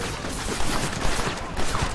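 Rapid bursts of gunfire in the video game Red Dead Redemption crackle densely throughout, a steady barrage of overlapping shots with no pauses.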